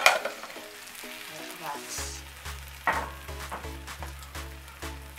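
Egg omelette batter sizzling as it cooks in a pan, a steady close frying hiss with soft clinks, briefly under a voice speaking.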